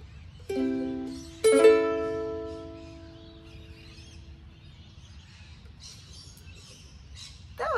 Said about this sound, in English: That was magpie singing with me.